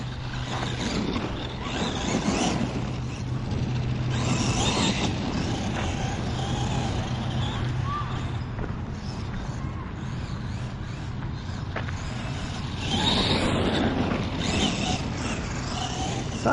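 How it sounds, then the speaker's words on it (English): An Arrma Gorgon RC car on its first run, its motor and slightly rough transmission giving a low mechanical whirr with surging bursts of revving, at moderate distance with no talk. "Sounds a bit rough. I think the transmission is not super smooth."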